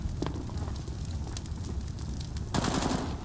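Rapid bursts of AK rifle fire ring out during a Counter-Strike match on the Mirage map, with quick repeated shots and a louder burst near the end.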